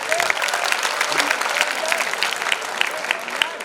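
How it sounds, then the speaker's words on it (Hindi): An audience at a speech event claps steadily throughout, a dense, sustained applause with sharp individual claps standing out, fairly loud and close. "तो अभी इन सब के लिए तालियां बजाइए एक बार।"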